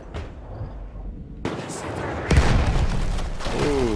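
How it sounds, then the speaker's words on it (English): Gunfire and explosive booms from a rocket gun in the World War I shooter Battlefield 1, with a sharp, loud blast about midway followed by sustained rumbling battle noise. "Ooh, rocket gun, huh?"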